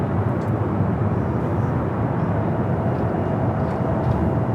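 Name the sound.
Cathay Pacific Boeing 777-300ER taxiing for takeoff at LAX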